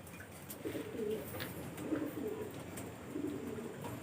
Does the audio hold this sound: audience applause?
no